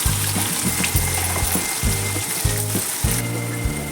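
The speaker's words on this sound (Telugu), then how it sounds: "ఇలా మినప్పప్పు శనగపప్పు వేగంగానే కట్ చేసిన ఉల్లిగడ్డ వేసుకోండి." Thinly sliced onions added to urad dal and chana dal frying in hot oil give a loud, continuous sizzle, overlaid by a pulsing low mechanical drone and no talking.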